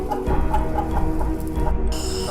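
Roosters brought for sacrifice near the altar of the Sree Vishnumaya Kuttichathan temple call and cluck repeatedly over a steady background wash, fairly loud and close.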